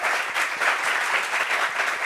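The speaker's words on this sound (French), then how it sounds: "Applaudissements pour lui" Studio audience applauds steadily for a comedian guest on a French-language talk show set, a dense, even wash of clapping lasting about two seconds with no talk over it.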